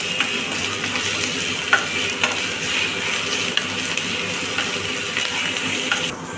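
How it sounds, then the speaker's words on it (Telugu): Finely chopped green chillies fry with ginger and garlic in a pan, giving a steady sizzling hiss with a few light stirring clicks and taps throughout. "అల్లం వెల్లుల్లి వేయించుకున్న తర్వాత కాసేపు వేయించుకోవాలి"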